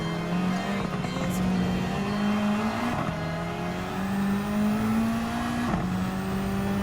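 Toyota GR Supra Racing Concept race car engine in Gran Turismo 7 GT Cup Gr.3 race, a steady droning engine note rising through gears with brief shift dips, continuous and fairly loud, no talk.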